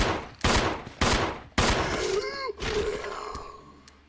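Gunshots fired at a zombie in Resident Evil 0 HD Remaster, inside a laboratory: four loud, spaced shots ring out about half a second apart, each with a decaying tail, followed by a groaning creature and softer clatter.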